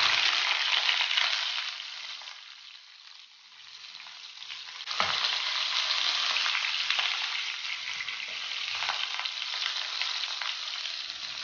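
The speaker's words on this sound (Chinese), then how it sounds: "鲳鱼煎黄一面后放另一面，" Pieces of golden pompano fry in hot oil in a pan with a steady, close crackling sizzle, turned over to brown the second side; the hiss dips briefly mid-way, then surges again with a few light clatters.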